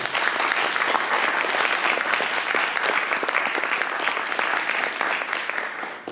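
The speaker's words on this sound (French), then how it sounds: "je vous demande d'applaudir" Steady, full audience applause at a conference on Louis XV in Puteaux, continuous and even throughout before tapering at the very end.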